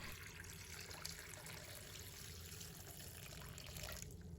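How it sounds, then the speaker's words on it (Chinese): Clean water poured into a large bowl of thinly sliced lotus root, a faint steady splashing trickle running continuously without talk. "倒入清水没过莲藕"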